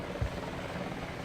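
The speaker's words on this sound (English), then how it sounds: "the Americans are fleeing rather stupidly in this old Chinook helicopter" A Chinook helicopter in the Vietnam War game Battlefield Vietnam drones with a soft, steady rotor hum, distant and faint.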